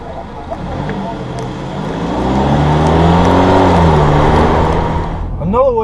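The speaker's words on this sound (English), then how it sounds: "as soon as you go to press on the gas pedal, the engine will start right back up" A car engine turns over again after an automatic start-stop pause and pulls away, the engine hum rising as it accelerates and a rising whine building toward the end, all heard under continuous talking.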